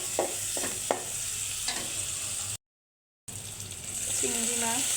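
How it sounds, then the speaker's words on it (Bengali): Chopped onion, garlic, green chili and turmeric sauté in a pan with a steady hiss and a few sharp stirring clicks, a brief dropout in the middle, and a voice speaking near the end. "পেঁয়াজ কুচি, রসুন কুচি, কাঁচামরিচ, সামান্য হলুদের গুঁড়া দিয়ে এগুলো ভালো করে কষিয়ে দেবো"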